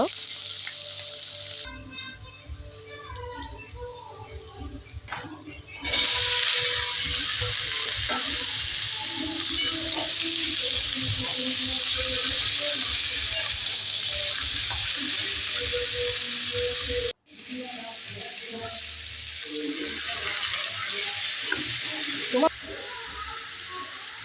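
Onion, green chilli and panch phoron fry in hot oil for a vegetable chorchori, giving a close, lively sizzle with stirring clatter that swells loudly, drops out for a moment, then resumes, with a voice faintly underneath.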